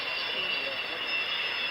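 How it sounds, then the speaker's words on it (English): A jet aeroplane flies a display at the 1996 International Air Tattoo airshow at Fairford, its loud, continuous roar filling the air without a break. "Absolutely amazing display from this aeroplane."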